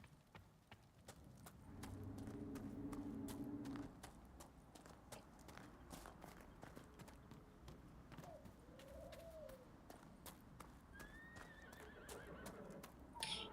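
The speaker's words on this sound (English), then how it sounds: "That's what a horse sounds like." A horse in Dragon Age: Inquisition gives a short whinny partway through, over steady clip-clop of hooves and bird coos and chirps in a game soundscape.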